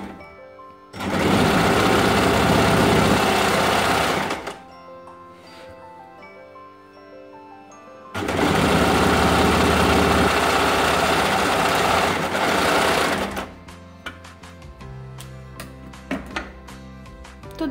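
An electric sewing machine stitches palazzo pants in two long, loud, steady runs of about three and a half and five seconds, with quiet handling noises between them and short, uneven stitching bursts at the end.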